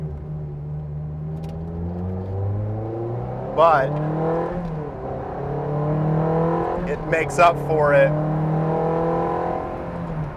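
A Ferrari 360 Challenge Stradale engine drones steadily while driving, with rising and falling rev pitch. Someone talks over it throughout.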